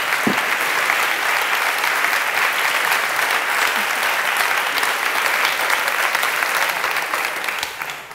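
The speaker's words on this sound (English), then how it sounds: "give her a great round of applause, please, ladies and gentlemen" Sustained, dense applause from a large evening audience at an Oxford Extinction Rebellion talk, steady and loud throughout before easing slightly at the very end.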